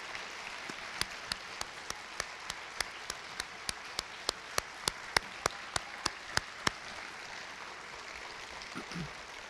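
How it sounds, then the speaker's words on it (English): A Cum Laude Society induction ceremony audience gives thin applause for the 2024 inductees: a faint, distant run of single claps at an even pace, fading out after several seconds with the room otherwise quiet. "Can we have a round of applause for our 2024 inductees?"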